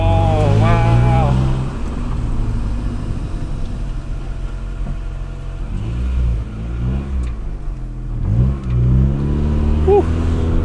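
A Honda Integra DC2 on its first test drive revs and accelerates through gears, engine note rising and falling loudly from inside the car while a person talks and whoops over it.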